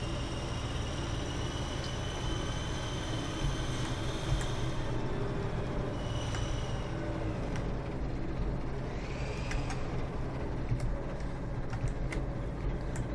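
The most powerful tractor in Farming Simulator 17 runs with a steady, loud engine drone that holds without a break from start to finish. No one speaks.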